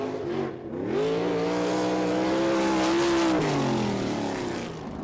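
Sprint cars race on the dirt track at Haubstadt, Indiana, a loud, close engine wail that dips and then rises in pitch as a car accelerates past, then fades off.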